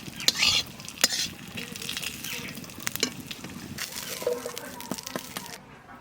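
Cumin seeds sizzle and crackle as they roast in a hot pan while a spoon stirs and scrapes, with occasional metallic clinks and a faint voice nearby.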